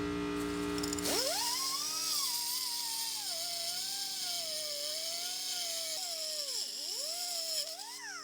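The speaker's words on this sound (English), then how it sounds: "We can go ahead and get our die grinder in there, and we're just going to cut the end of this off." Die grinder cutting off the end of a rusty sway bar link on a high-mileage GMC Envoy: a high-pitched whine spins up and holds steady, dipping in pitch as it bites into the metal, loud and close.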